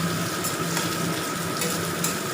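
Chopped onions sizzling and hissing in a hot pan for a ginger chicken masala, a dense, steady frying noise with faint stirring scrapes, close and continuous with no talking.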